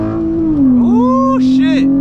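A tuned V6 Dodge Charger accelerates hard in first gear with a loud, steady engine drone close to the microphone, while someone talks over it.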